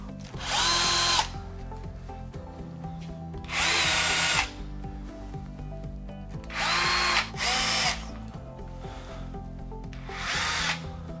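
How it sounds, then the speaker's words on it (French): A power drill bores into a wall in four loud, close bursts of about a second each, separated by quieter pauses. "On va venir percer le mur."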